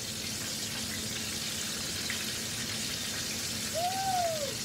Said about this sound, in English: we're gonna listen to this sizzle right here